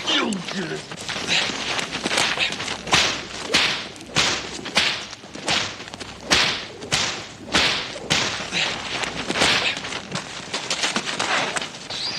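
A whip cracks again and again in a fast, irregular series of sharp, loud snaps, with scuffling and movement around them.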